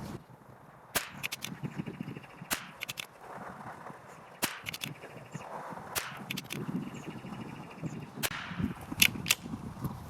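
Shots from a Savage MKII rimfire rifle crack sharply at irregular intervals, about eight or nine reports over gusty wind and faint outdoor background noise.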